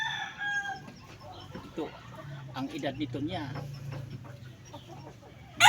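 A Boston Sweater line gamecock, a former two-time fight winner now seven years old, clucks and crows in bursts mixed with farmyard noise while someone talks over it in Filipino.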